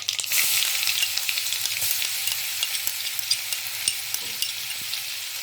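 Garlic, chilli, asafoetida and turmeric fry in tempering oil, a dense crackling sizzle heard up close with small pops and occasional soft stirring taps, with no voices.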